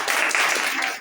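Applause from an audience cheering a student at a school results and scholarship ceremony: a dense, steady wash of many hands clapping throughout, close and fairly loud, with a faint voice underneath.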